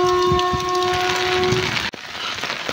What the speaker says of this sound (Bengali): আর তোমার ট্রেন ইতিমধ্যে আসছে।